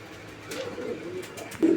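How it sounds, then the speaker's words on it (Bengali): A Jacobin pigeon gives a soft, brief low coo close by, with a slightly stronger coo at the very end against quiet background noise. "এখানে সিঙ্গেল আরও একটা জ্যাকোভিন কবুতর আছে"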